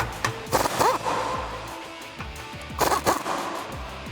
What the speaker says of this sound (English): I'm going to take my 15mm on my 1/2" drive impact gun and loosen these up.